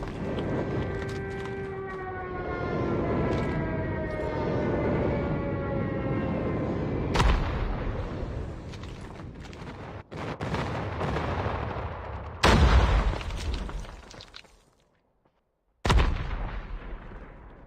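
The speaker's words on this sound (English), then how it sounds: "Friendly airstrike incoming." Friendly airstrike in Call of Duty Mobile: a whining, descending siren-like tone over constant rumbling, then heavy explosive blasts that cut out briefly to silence before one last loud impact.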